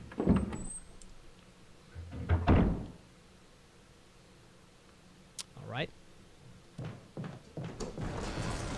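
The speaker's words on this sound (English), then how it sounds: "did you hear the door open?" A door opening in the Resident Evil video game, heard as a few separate thuds and a creaky rising sweep spread across the stretch, with a brief spoken word near the start.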